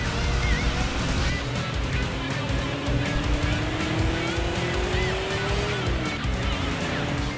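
A race car engine drones and climbs through its revs in the video game Sega GT 2002, with a steady mechanical roar, a rising pitch and faint tire noise throughout.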